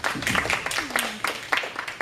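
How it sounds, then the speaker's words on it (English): A small group at a Toastmasters session claps briefly, a light scatter of hand claps over about two seconds with a faint voice underneath. "Round of applause to her."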